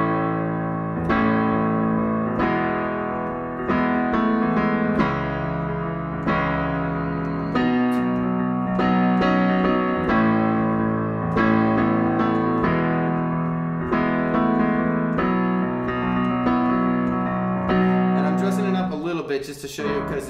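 Solo piano plays the chorus of a song, steady chords struck at a regular rhythm and ringing close and full, with no voice over them.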